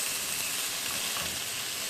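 Chicken steaks frying in a pan on medium-low heat give a loud, steady, close sizzle that continues without a break, with no talk.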